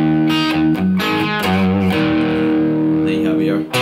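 A slow rendition of a riff on a heavily distorted electric guitar, sustained chords ringing loud and close, shifting between a few held shapes.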